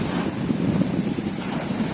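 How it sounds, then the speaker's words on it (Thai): Strong high-tide waves wash onto the sand at Puek Tian beach in Thailand amid blustery wind and rain, producing an unbroken, fairly loud rushing roar close to the microphone with no pauses. "น้ำทะเลขึ้นซัดแรงมากเลย"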